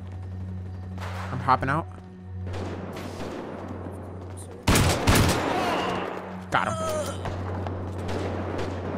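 Bursts of Grand Theft Auto V roleplay gunfire crack out in sharp clusters, loudest midway, under a steady electronic hum while a player talks briefly.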